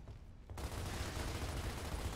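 Sustained gunfire in the shooter game Gears of War starts abruptly after a brief quieter moment, then continues as dense, loud, continuous rattling with heavy low booms.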